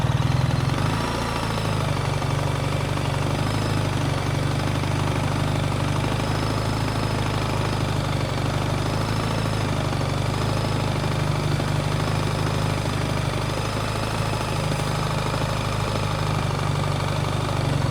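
A motorcycle engine idles during slow-speed riding practice with the handlebar fully locked, producing a loud, close, unbroken low rumble that holds steady throughout with no talk.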